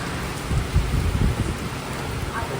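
Heavy rain falls with wind at a house, a dense steady wash of drops with low rumbling gusts, close and continuous.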